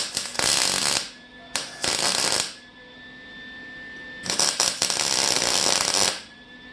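Tack welding on a steel reverse trike frame: loud crackling arc bursts, two short ones followed by a longer two-second burst after a pause, close and harsh, with a faint steady electrical hum between welds.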